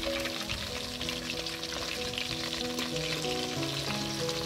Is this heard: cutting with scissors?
no